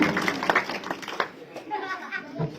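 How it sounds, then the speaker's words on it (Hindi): A rally crowd claps to welcome guests as Abhay Singh Chautala is presented a memento, an uneven scattering of hands that rises in bursts and fades, mixed with voices talking nearby. "सभी साथी तालियां बजाकर जो है अभिनंदन करें"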